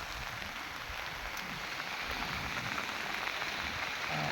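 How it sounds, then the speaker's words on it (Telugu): Steady, dense rain pours down heavily over a farm field near woodland, a continuous close hiss with no voices. "ఇక వాన అయితే అడవులో జోరుగా వాన అయితే పడుతుంది."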